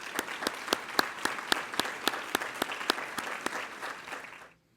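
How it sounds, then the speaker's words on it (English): Volunteers at a Lansing volunteer awards night receive applause from the audience, a moderately sized room of clapping with sharp, fairly regular individual claps standing out, lasting about four seconds before cutting off. "So would you please give them a nice round of applause"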